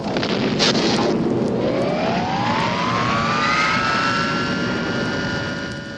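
Spaceship thrusters fire in the film The Black Hole, a loud sustained roar with a whining tone that climbs in pitch and then holds steady, with no voices.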